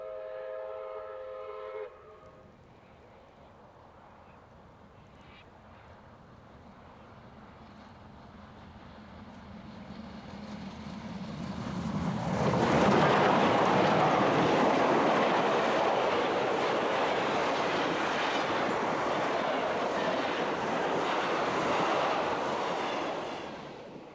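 A pair of South Australian steam locomotives led by 621 race across Victoria between Ararat and Beaufort in 1994. A whistle sounds first, then the chuffing, rumbling train swells from faint to a loud, sustained roar as it passes close by.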